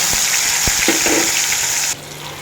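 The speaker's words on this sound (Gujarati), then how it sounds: "હાલો જો તેલ સરસ મજાનું આવી ગયું છે થોડી અમથું આપણે રાઈ એડ કરી દઈશું" Mustard seeds, whole cumin and hing powder crackle and sizzle in hot oil in a pan with a steady hiss and a few sharp pops, loud and close, before the sound drops off abruptly near the end.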